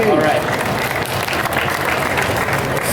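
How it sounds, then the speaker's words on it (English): A live audience at a Photoshop creature design demo gives a short burst of dense, loud clapping and cheering, lasting a few seconds. "Give yourself a round of applause."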